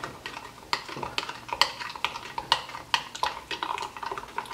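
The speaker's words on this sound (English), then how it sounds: "Let's give it a stir." A spoon stirring MRE hot chocolate in a cup, rapid irregular clinks and scrapes against the cup wall at close range, with no one talking.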